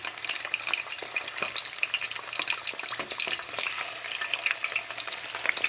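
Food fries in a pan that should not be overcrowded, making a dense, crackling sizzle with constant popping and spatter close up, steady throughout with no voices.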